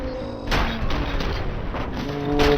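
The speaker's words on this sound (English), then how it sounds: "Oh, flashbang out." A flashbang grenade goes off in the game Robocop Rogue City, a muffled boom followed by a few dull thumps and blasts amid ongoing game noise and background music.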